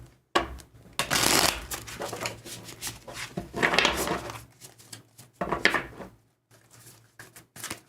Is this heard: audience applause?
no